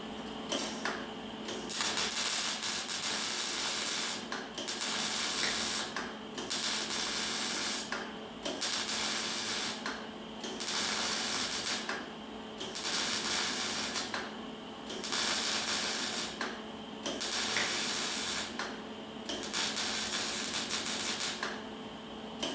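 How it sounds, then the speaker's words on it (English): Stitch welding with the trigger pulled on and off gives a loud, close crackling hiss in regular bursts of about two seconds, broken by short quiet gaps, roughly nine times in a row, with no talking. "You probably noticed I was pulling the trigger on and off. I believe that would be called a stitch weld."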